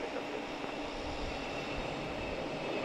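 A JetBlue Embraer 190 jet at Logan Airport gives a steady, distant roar with a broad rushing texture that holds at an even, fairly quiet level throughout.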